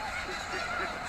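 A flock of snow geese honking, a busy overlapping chorus of calls at moderate distance, with no voices over it.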